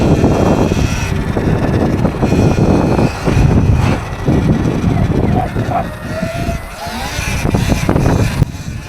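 Motorcycle on a stunt frame with new MilkRacing wheels revving hard for a wheelie, a loud close engine roar rising and falling with wind buffeting.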